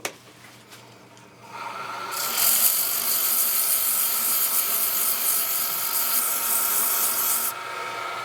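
Sandpaper of 120 grit is pressed against a wooden pizza cutter handle spinning on a running lathe, giving a loud, steady, hissing rasp over the motor hum that starts up after a few seconds and eases off near the end.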